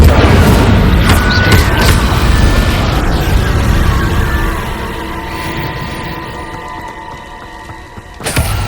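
Confringo blasting spell in Hogwarts Legacy, a loud booming explosion with crashing debris that rumbles and slowly decays, followed by a fresh burst near the end.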